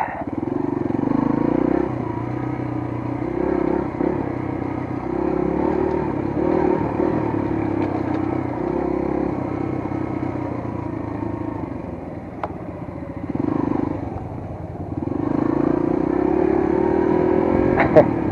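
A big motorcycle rumbles steadily along a forest dirt road, its engine droning loud and close throughout with occasional rises in revs and some rattling clatter, no talk over it.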